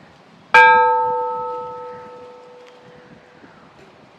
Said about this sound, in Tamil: கோயில் மணி அடிச்சு பார்ப்போம் சத்தம் அப்படின்னு.